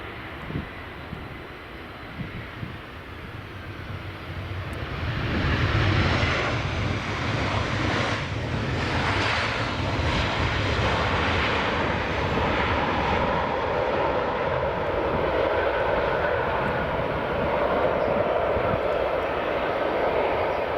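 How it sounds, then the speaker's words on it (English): A Lauda Airbus A320 on approach from Vienna into Edinburgh Airport, its engine roar swelling from a faint start into a loud, steady broadband rumble that holds for most of the stretch. "we've got Lauda's A320 coming in from Vienna"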